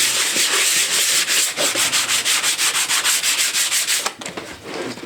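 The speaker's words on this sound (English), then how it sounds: "use the 80 grit and a soft sanding block preferably, and just sand that flat." Steady back-and-forth sanding strokes of 80 grit sandpaper on a soft block, flattening a cracked pod on a Porsche 928, rhythmic, close and fairly loud, fading out near the end.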